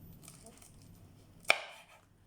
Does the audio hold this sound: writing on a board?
no